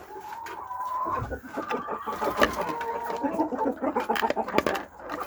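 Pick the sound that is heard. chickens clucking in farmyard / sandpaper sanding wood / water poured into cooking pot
chickens clucking in farmyard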